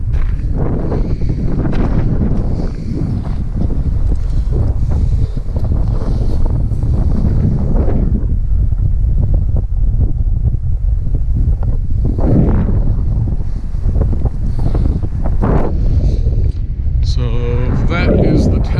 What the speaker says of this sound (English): it's windy as all get up out here